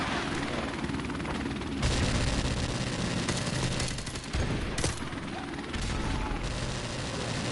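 AK rifle gunfire in Call of Duty: Modern Warfare Remastered, with loud rapid bursts and explosive thuds over a dense, noisy battle soundscape.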